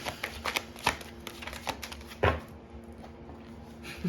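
A deck of cards is riffled and shuffled close up, giving quick fluttering bursts and soft slaps that trail off into quieter handling.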